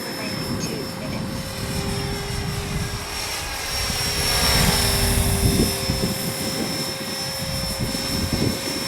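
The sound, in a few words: Blade 330S RC helicopter flying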